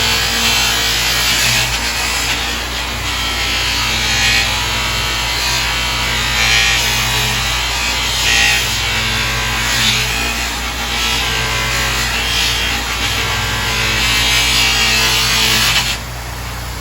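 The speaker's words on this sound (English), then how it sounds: "Get down through some grits and then pre-polish wheel." Power sanding on a chopper motorcycle part, stepped through grits before the pre-polish wheel: a steady, loud abrasive whir with rough rubbing texture that holds for the whole stretch and drops slightly at the end.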